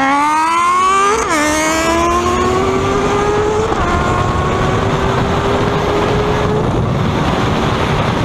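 A Honda Hornet and a Yamaha Fazer 600 motorcycle race each other, their engines loud and close, rising and winding up in pitch with clear drops at each gear change over a rushing wind roar.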